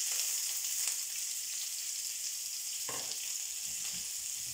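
Sliced onion with ginger and green chili sautés in a pan, a steady soft sizzle with faint stirring scrapes, quiet and continuous.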